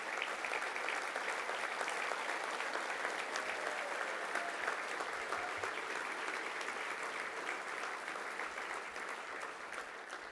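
Gala dinner audience gives a big, sustained round of applause for an honoree, steady dense clapping from a large crowd filling the room without letup, no talking over it.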